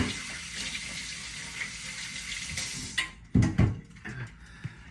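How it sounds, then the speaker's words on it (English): Tap water runs steadily into a kitchen sink while hands are rinsed between steps of making cinnamon French toast, a continuous hiss that briefly swells louder and splashier near the end, with no talking. "Rinse off my hands."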